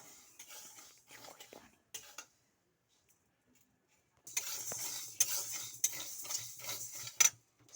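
Sago dry-roasts in a pan while a spoon scrapes and stirs it, with soft rustling and clinks at first, then a near-silent pause before louder, continuous scraping and tapping resume up close.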